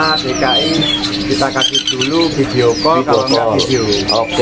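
Caged songbirds chirp and twitter at a bird market kiosk in Indonesia, their calls woven under steady close conversation from several people.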